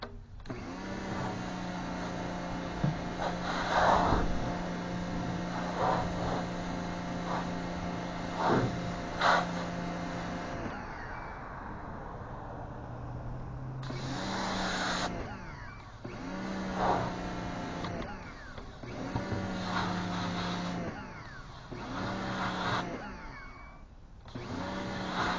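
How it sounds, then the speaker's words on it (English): A pressure washer with a turbo nozzle blasts residue out of an aquarium. The whining spray runs loud at first, then comes back in repeated bursts with short pauses between them, all close to the microphone and without speech. "Now we'll use the turbo nozzle to blast the rest of the residual out of her."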